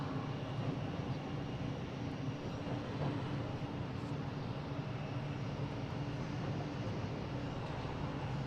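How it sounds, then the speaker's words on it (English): A United Airlines Boeing 737-900 jet from Norfolk rumbles steadily at Boston Logan airport, a broad continuous engine roar held at an even level with no voices. "next to me is United Airlines from Norfolk, 737-900, flight"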